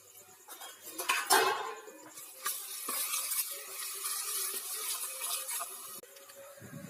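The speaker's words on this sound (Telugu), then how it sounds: "అల్లం పేస్ట్ని బాగా కలుపుకోవాలి" Ginger paste is stirred in a pan for a chicken curry, with a metal spoon clinking and scraping against the pan over a soft sizzle, close and fairly quiet, and no talking.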